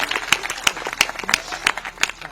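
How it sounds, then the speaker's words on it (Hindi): Audience clapping at a live comedy show in India, a moderate burst of hand claps with a few sharper, louder claps standing out in an uneven rhythm. "जोरदार तालियां होनी चाहिए।"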